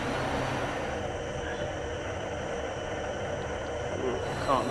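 An F-15E's jet engines run up during a power check in a flight simulator game, giving a steady, loud broadband roar that holds evenly throughout.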